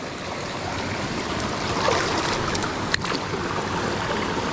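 A mountain river cascade rushes steadily in broadband white water, near and constant, with a faint click midway and no voices.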